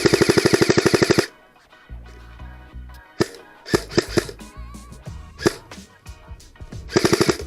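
Rapid bursts of airsoft gunfire during an outdoor airsoft game: a fast automatic string of sharp pops, then scattered and clustered shots of varying loudness, ending in another quick volley.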